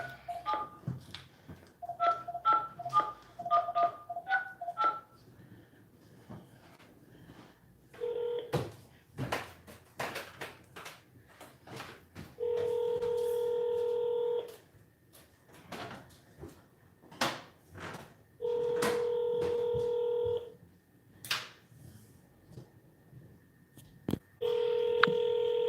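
A touch-tone phone beeps through a quick run of dialing tones, followed by scattered clicks and handling knocks and several long, steady electronic tones spaced apart, with no talk.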